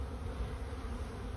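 Honey bees buzz during a hive inspection, a faint, continuous low drone from many bees heard close by, with no talking.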